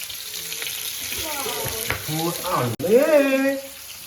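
Sardines frying in a pan crackle with a steady sizzle while a voice rises and falls over it.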